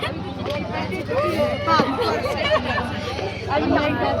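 Dense crowd babble at a temple during a district magistrate's visit, many overlapping voices chattering nearby in a steady hubbub.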